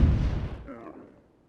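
A cannon fires a bomb in the video game Myth 2: Soulblighter, a single heavy boom that rumbles and fades over about a second.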